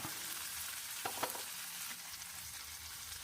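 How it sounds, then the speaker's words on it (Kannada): Onions and tomatoes frying for paneer butter masala, a faint, even hiss of sizzling with a couple of light stirring scrapes in the middle. "ಈರುಳ್ಳಿ ಮತ್ತು ಟೊಮೊಟೊ ಎಲ್ಲ ಸ್ವಲ್ಪ ಮಿದುವಾಗಬೇಕು ಅಲ್ಲಿವರೆಗೂ ಒಂದು ಅರ್ಧದಿಂದ ಒಂದು ನಿಮಿಷ ಫ್ರೈ ಮಾಡ್ಕೋಣ"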